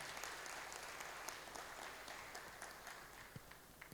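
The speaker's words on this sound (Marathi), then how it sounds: "तर विनायकसाठी सुद्धा आपल्याला टाळ्या वाजवायच्यात." An audience at an event honouring newly selected government officers claps together in sustained applause, quiet and somewhat distant, steady with scattered sharper claps.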